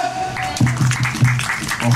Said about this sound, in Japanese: ファーストページのミキさん大きな拍手